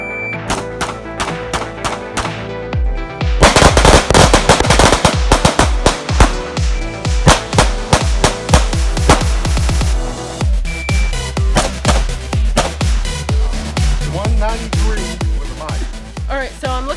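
Pistol shots from a speed and accuracy shooting drill, loud rapid bursts of sharp cracks in quick strings with brief pauses between volleys.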